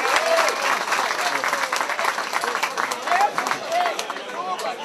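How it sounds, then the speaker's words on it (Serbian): A crowd at a wolf-hunting event gives hunters sustained applause, with dense clapping throughout and a few louder bursts. Voices and crowd chatter mix in with it. "Jedan aplauz za naše uspješne lovce danas."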